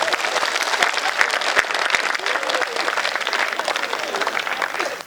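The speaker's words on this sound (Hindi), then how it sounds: "ये एक बार दोनों हाथ ऊपर उठा के तालियां बजाओ।" A live audience claps together with both hands raised overhead, a dense and steady burst of applause filling the whole stretch with a few louder sharp claps standing out.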